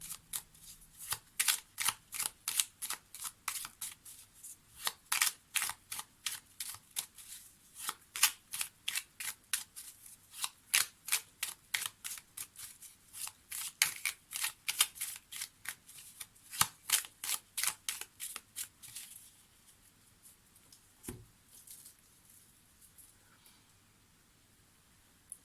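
Tarot cards are shuffled during a card reading, a long run of soft, crisp riffling slaps repeating in a steady rhythm, close and fairly quiet, tapering off near the end.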